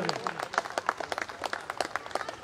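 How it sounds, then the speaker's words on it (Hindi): A smallish audience claps to welcome sanitation workers at a gathering, a loose, fairly quiet run of distinct individual claps at an irregular pace. "आप लोग ताली बजा करके इनका स्वागत करें।"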